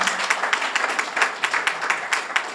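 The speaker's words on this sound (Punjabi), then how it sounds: "ਜ਼ੋਰਦਾਰ ਤਾੜੀਆਂ" Audience applause at a Punjabi community event in Canada, dense clapping at moderate volume holding steady for a couple of seconds, with no talk over it.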